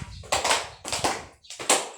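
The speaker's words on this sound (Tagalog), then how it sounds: "Yan din ang 3 palakpak si Cheska" A classroom of students gives three claps for a classmate during an elementary lesson, three distinct bursts of clapping spaced evenly apart, close and fairly loud.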